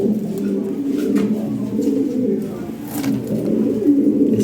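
Lahore fancy pigeons cooing softly in a low, continuous murmur, close by, with faint background noise and no clear talk.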